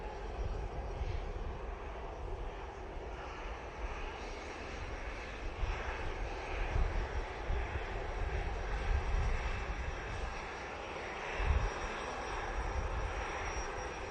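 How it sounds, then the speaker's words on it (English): Turkish Airlines Airbus A321neo arriving at Manchester Airport from Istanbul, a continuous jet engine roar with gusty low rumble and a brief louder thump late on, steady and unaccompanied by voices. "A321neo now coming in from Istanbul."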